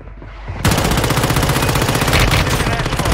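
Dense, loud automatic gunfire in the Warzone Mobile shooter game, a continuous rapid stream of shots beginning abruptly and running without pause to the end.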